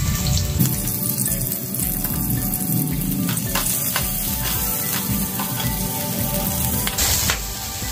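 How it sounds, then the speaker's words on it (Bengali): Onions and mixed vegetables frying in a pan for a homemade pizza, a steady close crackling sizzle with scattered pops, loud and continuous throughout with no talk. "এখানে আমি সমস্ত সবজিগুলো এখন ভেজে নিচ্ছি। প্রথমে পেঁয়াজ দিয়ে দিলাম।"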